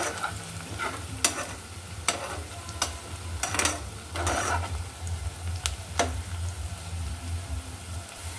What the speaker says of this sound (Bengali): পেঁয়াজটা বেরেস্তার মতো করে একটু ভেজে নিব